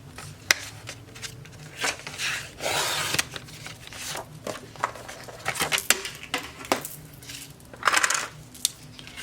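Scissors snipping through paper in short irregular cuts, close up, with crisp rustles and a longer slicing swish between separate snips.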